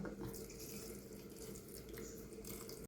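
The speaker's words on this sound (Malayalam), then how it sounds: "വെള്ളം ഒഴിച്ചെടുക്കാം" Water runs continuously from a tap into a sink, a constant close gushing splash with no speech.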